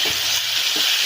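Dried fish cooked down with spices and potatoes in a pan, giving a steady close sizzle with a few soft stirring scrapes.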